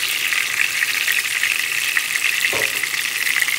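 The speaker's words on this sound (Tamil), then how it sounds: "தக்காளி பழத்தை நல்லெண்ணெயில் தான் பொரிக்கிறேன்." Tomatoes frying in sesame oil, a continuous close hissing sizzle that holds steady throughout with one brief soft knock partway through and no voices.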